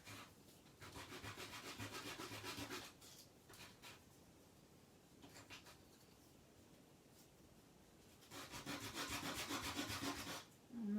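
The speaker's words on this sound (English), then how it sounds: "Sandpaper" Sandpaper rubs back and forth along the edges of a small paper craft tag in close, quiet bursts of rapid scratchy strokes, with a longer pause in the middle before a final burst.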